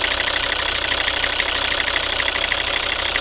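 A 2011 Volvo V60 2.0 D3 diesel engine idles steadily nearby with a constant rumbling, knocking clatter. There are no voices.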